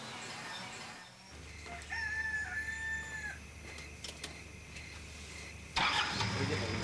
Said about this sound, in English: hear the roosters crowing.